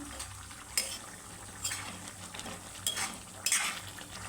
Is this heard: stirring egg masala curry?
yes